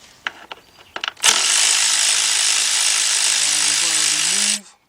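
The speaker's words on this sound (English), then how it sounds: "I'm using a 10mm deep 3/8 drive with my cordless impact." A cordless impact wrench with a 10mm deep 3/8-drive socket spins nuts and bolts off a valve cover in one loud, continuous burst lasting over three seconds, after a few faint clicks and knocks. The pitch shifts slightly near the end as the fastener frees.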